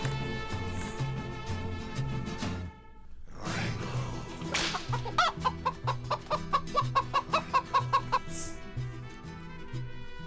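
A chicken clucking sound effect plays during a radio show, rapid repeated clucks building into a rhythmic run over a looping musical bed, with a sharp whoosh partway through.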